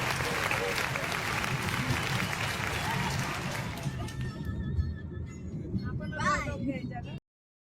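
Close applause from a few people inside a car arriving in Kannad at the end of a road trip, dense clapping that thins out halfway as voices and chatter take over.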